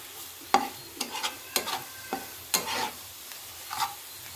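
Fried onion, garlic and dry chili powder for spicy kalai greens are stirred in a pan, making a series of separate scraping strokes over a faint, steady sizzle, close and fairly quiet.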